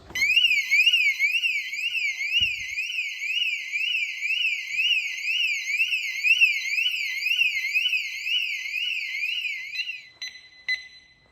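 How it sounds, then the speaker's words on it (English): A loud, piercing Datatool Evo Thatcham Category 1 motorcycle alarm siren warbling rapidly up and down without pause, then cutting out near the end with a few clicks. "show you a quick demonstration of the alarm and how loud it is"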